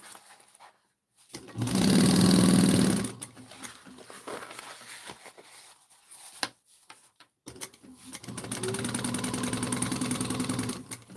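A sewing machine basting the bottom edge of a fabric bowler bag, running in two loud, rapid bursts of stitching with quieter handling and shuffling between them.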